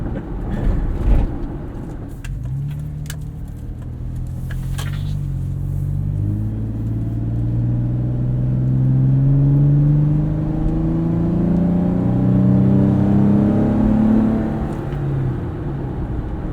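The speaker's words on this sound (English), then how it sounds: "That V6 just screams." A Toyota V6 SUV engine, heard from inside the cabin of a 2020 4Runner, accelerates with rising revs climbing through the gears, a loud steady drone with road and tire rumble beneath.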